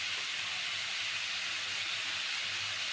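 Parshe fish sautéing in a pan with chili, turmeric and salt gives off a steady, bright hiss of frying oil, heard close and continuous without pause or voices.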